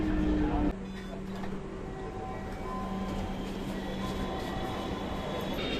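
A metro train at the Karwan Bazar station platform in Dhaka hums and whines steadily, with a louder rumble at first that drops after a moment, leaving a sustained electric drone in the station.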